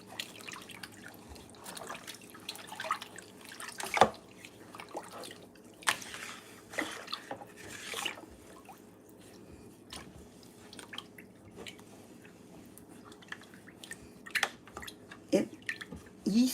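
Homemade banana and blueberry wine must being swirled in its container, with soft sloshes, drips and small splashes coming intermittently and quietly at close range, no talk.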